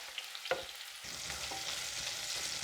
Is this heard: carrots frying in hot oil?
yes